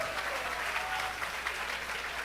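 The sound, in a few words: congregation clapping for Christ in church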